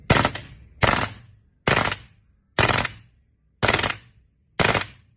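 A WE M4 gas blowback airsoft rifle fires on full auto in six loud, close bursts of rapid hissing cracks, separated by short silent pauses, with no voices over it.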